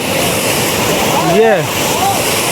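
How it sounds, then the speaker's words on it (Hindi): A strong waterfall, a jharna at Saadatganj near Barabanki, where children bathe and jump in. It gives a loud, steady wash of rushing water, with a brief voice-like call rising over it near the middle. "और ये हमारा हसनैन भाई, पानी तेज हो गया बता रहे हैं"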